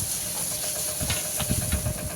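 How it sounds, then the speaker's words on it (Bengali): Snake gourd frying slowly in a covered pan gives a steady close hiss with soft bubbling crackle underneath, constant throughout with no talking. "এবার চিচিঙ্গে ভাজা হচ্ছে, ভাজা হচ্ছে।"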